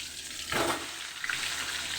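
Pieces of pointed gourd (potol) drop into hot oil with a sudden burst of sizzling, which settles into a steady, softer crackle close by.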